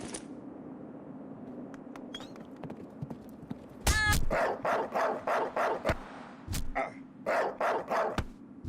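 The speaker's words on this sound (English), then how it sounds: "A dog, a wolf." Dog or wolf barking in the video game Diablo 2, a rapid series of loud, close barks and yelps repeating in rhythm over a low game ambience with a sharp bang partway through.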